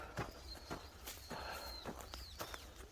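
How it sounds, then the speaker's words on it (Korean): Bird chirps and whistled calls ring out over an outdoor background, with a few sharp knocks or steps mixed in. "저기 새소리 정말 듣기 좋습니다"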